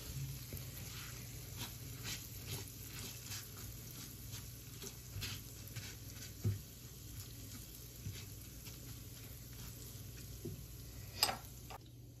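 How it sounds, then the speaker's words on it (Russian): Vermicelli frying in oil in a pan for Turkish-style rice, a faint steady sizzle with soft crackles and an occasional louder pop. "Вермишелька обжаривается"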